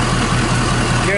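A Ford 6.7 Powerstroke diesel engine idles during a transmission flush, producing a loud, steady, continuous rumble heard up close.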